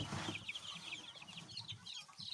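A small bantam hen gives a run of soft, close clucks, with short chirpy notes over a low rustle and handling noise, and a brief louder burst at the start.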